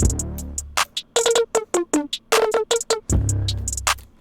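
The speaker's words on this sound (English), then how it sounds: "So it's just a change of the 808 melody." An 808 bass melody from a hip-hop beat plays alone: a string of short, pitched, punchy notes in a stop-start rhythm, opening and closing with longer sustained booming tones, loud and close with no talking.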